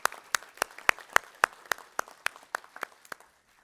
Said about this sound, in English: Let's invite you to give another round of applause for this outstanding early career scientist.